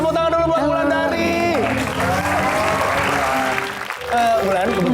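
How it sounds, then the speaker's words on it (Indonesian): A studio audience applauds on a rooftop talk show set, with sustained clapping mixed with music and voices, briefly dipping near the end before picking up again. "tepuk tangan dulu buat Wulandari"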